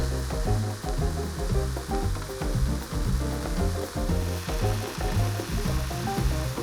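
Onion and spices sizzle steadily in a shaken frying pan, a continuous hiss sitting under a loud, rhythmic backing music track with no talking.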